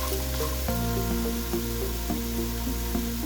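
Amla rice fries in a pan with a soft, continuous sizzle and stirring, partly masked by steady background music.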